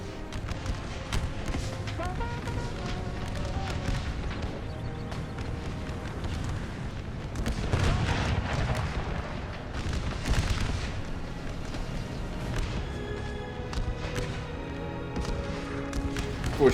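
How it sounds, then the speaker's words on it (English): Musket volleys in a Napoleon Total War American Civil War battle, with sustained rolling gunfire and booming shots at a distance, swelling in waves over a continuous battle din. "Now it's becoming a distance shooting battle over here"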